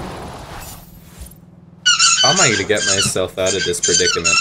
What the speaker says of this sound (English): my dog in the background chewing on his dog toy that has a squeak